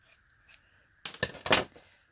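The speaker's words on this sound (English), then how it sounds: "I'm going to get my scissors." A few quick scissor snips cut through a paper flag close by, sharp crisp bursts after a quiet start.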